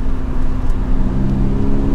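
Toyota GR86 sports car driving the sharp turns of the Tail of the Dragon mountain road, a steady loud engine drone with a strong low hum running continuously throughout, heard from close by.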